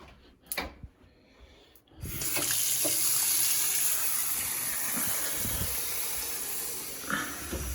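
Water starts rushing through a pipe after a few quiet taps and knocks, becoming a loud, steady hiss that continues unbroken to the end, with a soft thump near the close.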